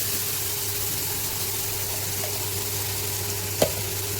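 Onion and tomato frying in a pan for mushroom biryani, giving a steady low sizzle throughout with one brief louder knock or stir near the end.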